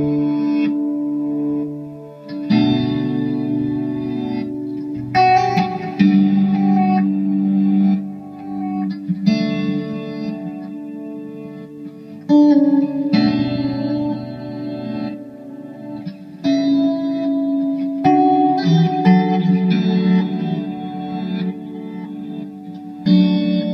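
Electric guitar run through chorus, analog delay and reverb effects plays a continuous chord-and-melody passage, with a spacious, shimmering sound and echoing tails, loud and up front with no talking.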